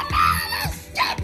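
A person screaming pop song lyrics in a comedic bit, short loud strained yelled syllables in quick bursts, close and harsh.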